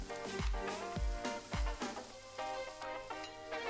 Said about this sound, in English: keep on stirring because I don't want my lovely prawns or my mussels or even my fish to burn